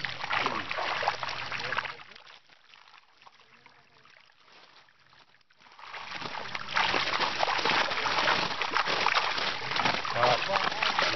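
Water rushes and sloshes steadily around a moving boat, easing briefly then building again, with voices talking over it.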